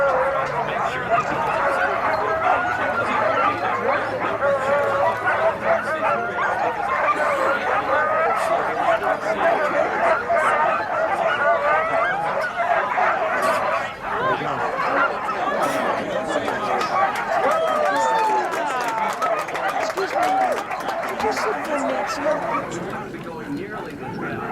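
Sled dogs bark and yip excitedly during a race near Fairbanks, Alaska, a dense, continuous chorus of overlapping yaps close by, with a person speaking underneath.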